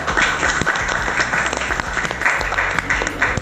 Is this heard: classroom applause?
yes